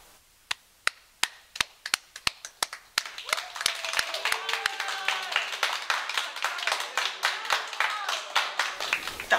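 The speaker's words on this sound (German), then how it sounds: "Ich denke, Albert hat sich trotzdem einen Applaus verdient." A church-night talent show audience gives a round of applause, beginning as a few slow, sharp isolated claps that quickly thicken into dense, steady clapping from many hands, fairly close, with a little background voice mixed in.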